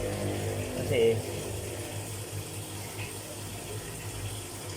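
Water runs steadily from a tap during hand-washing of laundry, a constant close flow with a brief splash, while someone talks over it.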